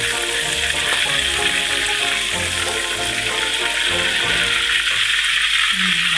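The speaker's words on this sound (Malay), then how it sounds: "goreng ayam ni jangan terlampau garing ya" Chicken pieces fry in hot oil with a loud, steady sizzle and crackle that carries unbroken for several seconds, punctuated by occasional clinks, with no talking.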